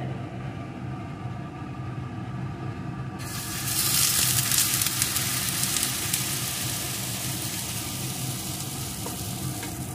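Sizzling burst as an egg and red lentil batter hits well-heated oil in a pan, a broad steady hiss that jumps louder partway through and then settles into continuous close frying.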